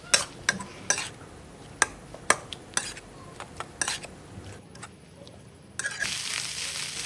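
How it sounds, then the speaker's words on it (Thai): Chili shrimp paste with oyster sauce and sugar stir-fried in a pan, with a run of sharp scraping and clanking strikes from a spatula against the cookware over a low sizzle, and a brighter hiss swelling near the end. "ใส่น้ำพริกกะปิลงไปปรุงรสด้วยซอสหอยนางรมน้ำตาลทรายจากนั้นก็ผัดทุกอย่างให้เข้ากันค่ะ"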